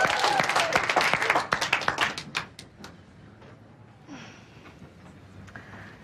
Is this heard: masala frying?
no